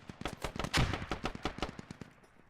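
Mortar fire in a video game match, heard as a rapid run of sharp booming blasts about three seconds long, with one heavier explosion near the middle and no talk over it.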